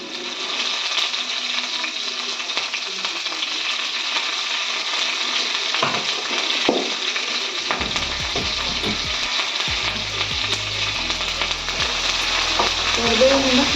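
Garlic and curry leaves frying in a pan make a loud, constant sizzle, joined midway by repeated clinks and scrapes of a spoon stirring against the pan, close by with no speech.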